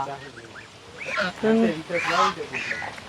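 Several ducks quack repeatedly at close range, nasal calls overlapping in an uneven chatter with some goose-like honks, and a person speaks over them.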